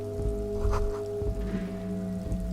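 Steady rain falling in the video game Disco Elysium, a soft continuous patter beneath a sustained musical drone, with a few faint thumps and no voices.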